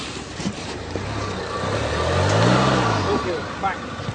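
Land Rover LR2 backing up on icy snow, its engine rising into a rev as the wheels work for grip, with voices talking quietly over the motor.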